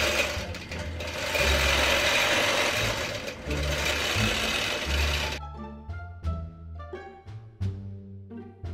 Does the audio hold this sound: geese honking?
no